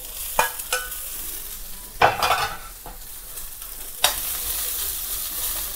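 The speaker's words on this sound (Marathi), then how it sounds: "चला आता हे कोबी आपण फ्राय करून घेतोय।" Cauliflower pieces fry in a pan with a steady sizzle, broken by a few loud scraping stirs and clatters of a spoon against the metal, close and with no talking.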